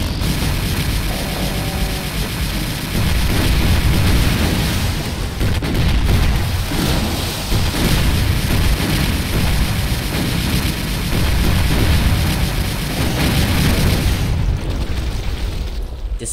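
Rocket blasts rumble through a Doom wad in heavy, overlapping booms, a dense, loud barrage of deep explosions that barely lets up, with one brief lull before a final burst.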